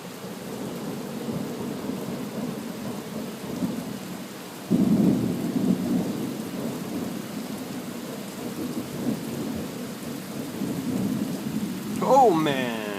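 Rolling thunder from a night storm over steady rain, with a sharp, loud crack near the midpoint that drops into a long, low rumble, followed later by a second swell of noise.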